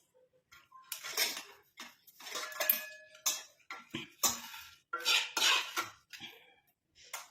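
Herbal hair mixture, cooked until dark, strained through a metal sieve, with a run of close scraping and clinking bursts as the strainer is knocked and pressed, separated by short pauses.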